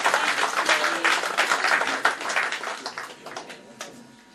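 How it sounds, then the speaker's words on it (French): Dense, steady applause from an audience at a community gathering with a diaspora group, a continuous wash of many hands clapping that slowly thins and fades toward the end. "Ça s'applaudit, s'il vous plaît."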